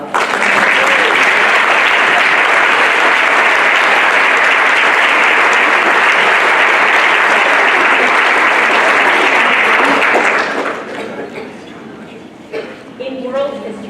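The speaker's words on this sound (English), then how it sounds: "Please give them a round of applause." An audience at a school honors ceremony breaks into loud, dense applause that holds steady for about ten seconds, then fades into scattered claps and murmuring, with talk heard as it dies down.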